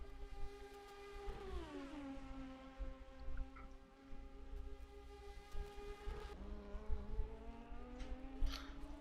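F3 race cars scream past at the Macau street circuit, high engine notes rising and dropping with gear changes and passes, fairly distant and steady with no voices present.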